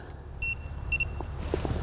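Digital torque wrench tightening front-end bolts on a GMT400 truck to 80 foot-pounds gives two short, loud, high electronic beeps close by, then a few faint clicks.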